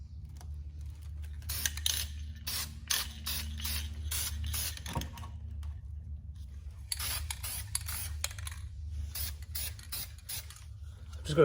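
A rattle can sprays caliper paint onto a BMW E36 M3 rear brake caliper in short repeated bursts of hiss, separated by pauses, over a low steady hum.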